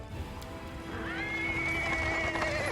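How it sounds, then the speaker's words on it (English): In the video game Pathfinder: Wrath of the Righteous, a horse-drawn cart rolls over paving stones as a rumbling, clattering bed of wheels and hooves swells, and a drawn-out, wavering whinny rises over it. "He's interrupted by a sound of wheels rolling on the paving stones. A cart drawn by a sad little horse appears from around the corner."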